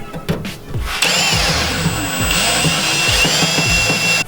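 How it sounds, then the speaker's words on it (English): A unibit step drill bores out a hole in the trunk lid of a 2016 Subaru STI during a wing install, running as a steady close power-tool whine with a few short bursts before it settles into continuous cutting. "Now we're gonna use the unit bit to kind of drill that hole out"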